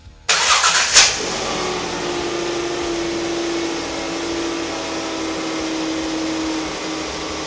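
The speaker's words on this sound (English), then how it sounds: "we're going to just fire it up and just see if it leaks" A Ford Capri's V6 engine cranks and catches, then settles into a steady, close idle with a constant low hum.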